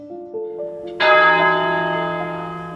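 A church bell rings out close and loud after a few softer tones, one strong strike followed by a long, ringing decay.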